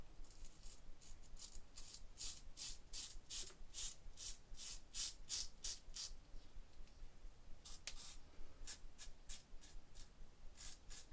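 A safety razor scrapes through a two-day beard in a quick run of short, crisp strokes, close and quiet, pausing briefly and then resuming with a few more passes.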